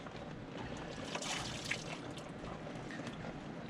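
Coolant draining out of a removed intercooler part on a 2020 Polaris RZR Pro XP makes a soft, steady trickle and splash with faint watery gurgles throughout, fairly quiet and close by.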